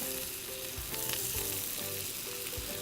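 Crispy pork medallions frying in a pan as they are stirred: a soft, steady sizzle with occasional scrapes and pops from the utensil, quiet and close, with no speech.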